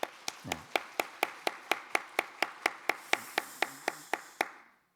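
A church congregation claps together in a steady, even rhythm, about sixteen unison claps in quick succession before stopping abruptly.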